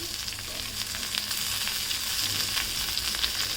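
Green chili and coriander sauté in hot oil for varai rice, giving a bright, dense sizzle close up with light stirring underneath.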